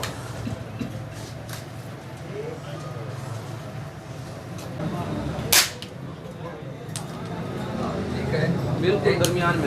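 A side-lever airgun fires a single sharp crack midway through, while people talk throughout against a busy background.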